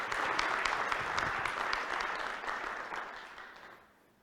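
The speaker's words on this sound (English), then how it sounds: "some of that clapping was from you too" Clapping from the audience at a Rotary meeting, a dense sustained round that holds steady for a few seconds and then tapers off to quiet.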